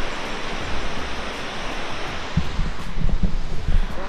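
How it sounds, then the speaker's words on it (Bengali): The Patal Ganga river near Badrinath flows in a steady, even rushing wash that continues throughout, with a few faint low thumps toward the end and no voices. "ওই যে নদীটা বয়ে আসছে ওখান থেকে।"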